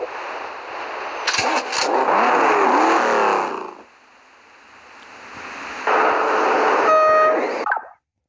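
A car engine revs in Beach Buggy Racing 2, a mobile racing game, rising in two loud bursts with a quieter idle between them, then cutting off abruptly.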